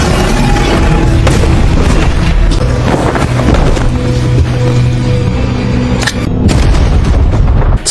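Explosion in the action film Osiris: a loud, continuous barrage of deep booms and blasts rolling through the whole stretch, dense and close with no pauses and no voices.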